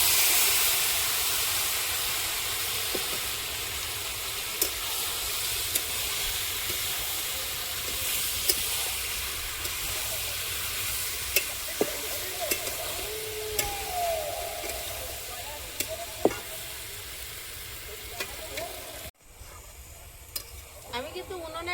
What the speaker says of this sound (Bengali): গরম তেলে দিয়েছি, নেড়ে চেড়ে নামিয়ে নেব